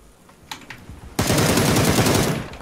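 Beryl assault rifle in PUBG unloading one long sustained full-auto spray of rapid, loud, closely spaced shots, preceded by a few sharper isolated bursts.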